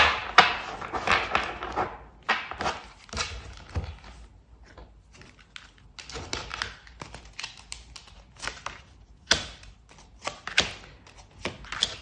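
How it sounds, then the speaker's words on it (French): Tarot cards laid out on a table during a reading: a steady series of soft taps, slides and light thumps at close range, irregular rhythm, fairly quiet, with no talk. "On va disposer les cartes."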